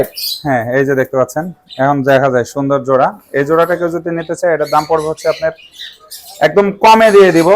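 Cockatiel pairs in a bird shop give loud, harsh squawks and chirps close by, in repeated bursts with short pauses.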